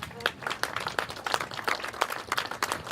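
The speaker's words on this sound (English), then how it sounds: "give them a round of applause" A crowd at an outdoor hotel groundbreaking ceremony gives a round of applause, dense overlapping claps rising and falling throughout, with faint voices mixed in.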